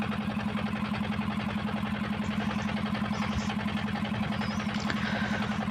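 A motorized engine boat running through low-lying wetland, its engine putting out a steady throbbing drone at an even pulse, close and constant for the whole stretch with no voices.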